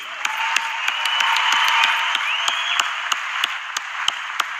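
Steady applause from a sizable crowd at the Arnold Classic Australia strongman competition, dense continuous clapping with a few sharper individual claps standing out, loud and sustained throughout.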